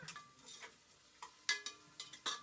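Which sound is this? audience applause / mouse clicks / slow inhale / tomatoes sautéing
tomatoes sautéing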